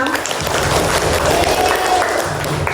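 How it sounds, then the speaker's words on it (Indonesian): Continuous applause from a grade 6 class in a classroom, dense and steady, with some voices mixed in beneath the clapping. "Tepuk tangan buat kelas 6"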